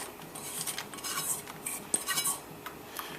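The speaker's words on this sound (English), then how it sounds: "So in goes all that washed split peas into the pot." Washed split peas are tipped into a pot of boiling water, giving a light clattering patter and scattered clinks of metal against the pot, close and brief.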